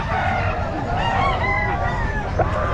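A rooster crows repeatedly at the Bocaue pet market, loud and close, with other chickens clucking and calling over a busy crowd murmur.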